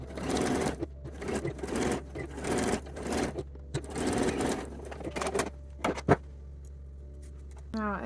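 A sewing machine stitches a seam in short bursts of rapid mechanical whirring separated by brief pauses, close and fairly loud, then stops near the end while a low hum continues.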